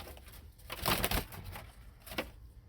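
A bird, probably a pigeon, trapped inside the cab of a Ford F150 pickup truck, giving a few scrabbling flutters and soft knocks at close range: one busy burst followed by a shorter one, with no talk.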